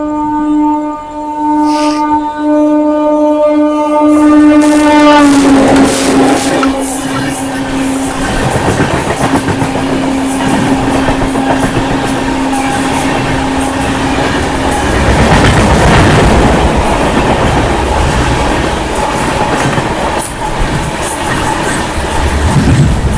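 A loud horn blast, then another train thunders past close by the Dehradun Tanakpur Express, with a sustained roaring rush, clattering wheels and rattling cars that go on for over twenty seconds.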